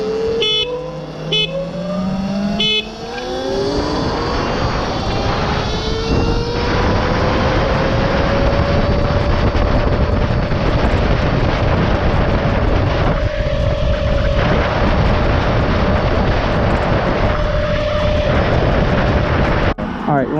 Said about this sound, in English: we're gonna be drag racing this NAMI